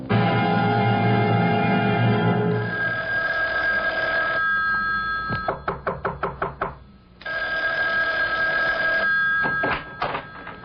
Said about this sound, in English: Isn't that your phone I hear ringing?